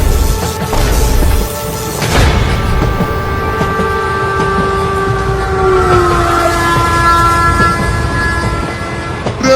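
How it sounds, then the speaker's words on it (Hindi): Cartoon train sound effect: a loud horn-like tonal blast and rumbling rail noise of a train passing and pulling away, steady and close throughout, with no talking. "ट्रेन तो चली गई मालिक।"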